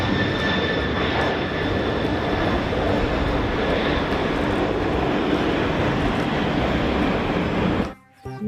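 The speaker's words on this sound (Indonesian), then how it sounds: "Wah, ada pesawat terbang teman-teman." Steady, loud airplane engine roar, a continuous broadband drone over a dense noise bed that drops away abruptly just before the end.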